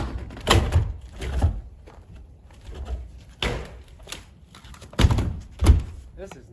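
Doors frozen solid to the ground, with hinge screws removed, are forced open in heavy thuds and bangs, about five loud knocks spaced irregularly between quieter scraping and rattling.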